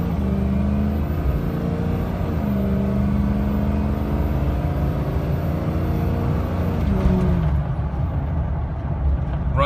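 A 2006 Ford F350 pickup truck accelerating onto a freeway, its engine pulling with a steady loud drone and rising road and wind roar from inside the cab, the engine note easing off near the end.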